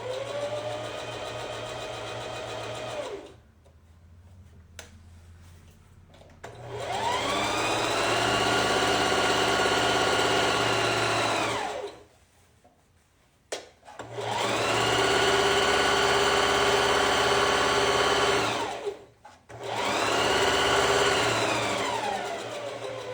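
A sewing machine stitches a 1/4 inch seam in three long steady runs of motor whir, each stopping abruptly before starting again, close and clear with no talking.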